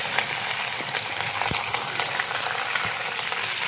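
Green chillies and garlic sizzle steadily in a hot pan over high flame, a loud continuous frying hiss with a couple of sharp clinks from stirring.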